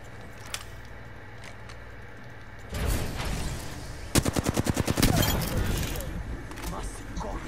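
Gunfire in the battle royale game Apex Legends erupts as a rapid automatic burst of about a dozen sharp, evenly spaced shots, loud and close, amid a surrounding roar of game noise.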